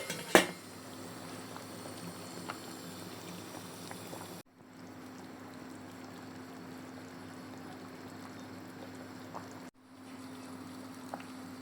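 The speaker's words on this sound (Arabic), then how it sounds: "هلا بخليه على نار عالية لبين ما يغلي معنا" A pomegranate molasses sauce for Aleppo-style stuffed vegetables simmers over high heat in a pot, a steady low bubbling hiss with a faint hum, opening with a brief clatter.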